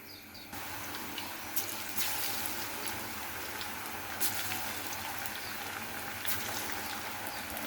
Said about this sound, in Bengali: এখন আমি এক এক করে পেঁয়াজুটা ভেজে নিচ্ছি।